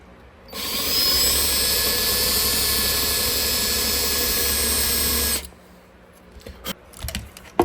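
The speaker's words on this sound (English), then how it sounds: "Another method is to drill into the top a little bit." A power drill whines steadily at high speed for several seconds into a broken bolt on a Porsche Cayenne Turbo 958 engine, then stops, followed by a few light clinks and taps.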